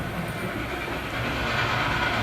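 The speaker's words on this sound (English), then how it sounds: "Another train comes along, but in the opposite direction." A train rumbles by as a sound effect in a theatrical performance, a steady, dense roar with a faint rhythmic clatter that grows slightly louder toward the end.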